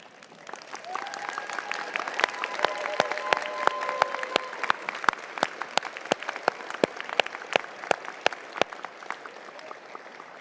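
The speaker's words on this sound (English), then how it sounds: "giving them a show of applause right now and gratitude" Graduation audience at a law school commencement applauding their families, a dense sustained wash of many hands clapping with sharp individual claps popping out, while a faint voice or tone lingers underneath.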